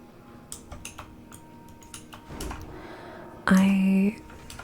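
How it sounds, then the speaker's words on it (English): Computer keyboard typing at a desk during World of Warcraft play: scattered quiet key clicks in short irregular bursts, close but soft, with game sounds and a brief tone toward the end. "I'm hoping it's going to be slightly less noisy than my current keyboard"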